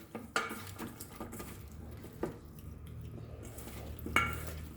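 Salt mixed by hand into a mutton trotters marinade in a bowl, a few faint clinks and scrapes of metal against the dish spread over quiet, low background.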